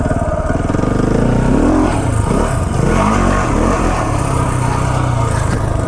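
A KTM 690 Enduro single-cylinder motorcycle ridden off-road through sand, its engine loud and close throughout, revving up and down continuously with throttle swells and no talk.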